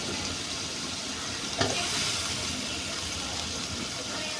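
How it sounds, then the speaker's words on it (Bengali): Cauliflower florets, flat beans and new potatoes being sautéed in spices give off a steady broadband sizzle and hiss, with one brief louder clack near the middle and no talk. "সবজিগুলোকে মশলার সাথে খুব ভালোভাবে কষিয়ে নিব।"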